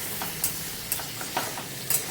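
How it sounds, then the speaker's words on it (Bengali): Chicken curry being stirred and sautéed in a pan, with soft intermittent scrapes and a steady low sizzle underneath, each stir arriving roughly every half second, close and fairly quiet. "এইভাবে আপনাদেরকে মাংসটা কষতে হবে"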